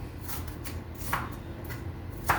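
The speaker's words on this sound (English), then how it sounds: "Start chopping up an onion" A knife chops an onion on a cutting board, quick close taps repeating in an uneven rhythm over a low kitchen hum.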